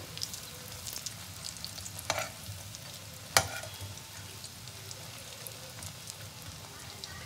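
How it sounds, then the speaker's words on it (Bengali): Steady quiet sizzling of rohu fish and egg pakoras deep-frying in hot oil, with a few sharper crackles and a clink partway through; no talking. "তো একইভাবে আমি সব পকোড়াগুলোই ভেজে তুলে নেবো।"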